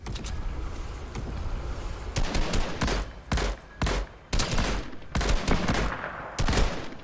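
Gunfire in Fortnite, a steady roar of fighting at first giving way to loud repeated bursts of shots at irregular intervals, close and dominant, with no talking.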